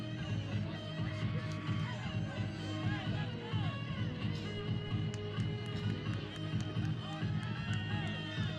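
Women's college soccer crowd at Canyons, cheering and chattering after an equalizing goal against Santa Monica, a steady roar of voices and scattered shouts with a commentator talking over it.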